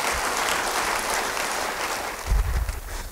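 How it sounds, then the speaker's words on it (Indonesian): A church congregation at an Indonesian sermon breaks into steady, sustained applause throughout, dense clapping from many hands filling the room, with a few louder thumps near the end. "Ya, beri tepuk tangan yang baik bagi dia."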